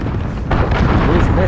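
A missile blast from a Call of Duty Search and Destroy match hits as a sudden, heavy rumbling boom halfway through and rolls on loudly, with a game voice over the tail.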